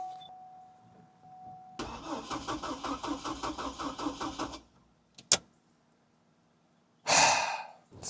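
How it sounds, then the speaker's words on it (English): A Hummer H3 engine cranks with a steady rhythmic churning for about three seconds without catching, followed by a sharp click and a later burst of breathy noise, close and fairly quiet with no talk. "See if we can get this thing to crank over"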